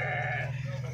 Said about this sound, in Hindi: ये बकरा अच्छा है यार, खसी बकरा